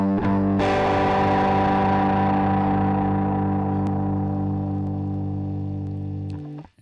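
Distorted electric guitar through a Valeton GP-200 multi-effects unit, dirtied up to a heavier overdrive: one loud chord struck and left to ring for several seconds, sustaining and slowly decaying before being cut off, with no talking.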